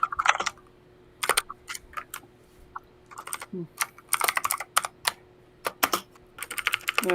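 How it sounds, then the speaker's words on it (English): Bursts of typing on a computer keyboard, quick clustered key clicks in irregular runs with short pauses, close and fairly clear over a quiet room hum. "mind the Go ahead. typing. I'm just working on some metadata for some upcoming videos"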